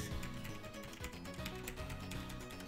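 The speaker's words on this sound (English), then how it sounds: "I'm currently using a really loud keyboard because my one broke, and Holly graciously allowed me to borrow h" A loud borrowed computer keyboard clatters with rapid, continuous keystrokes, close and busy, under a layer of game music.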